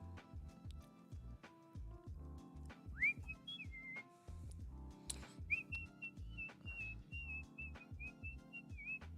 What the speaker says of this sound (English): Wow, nice whistling.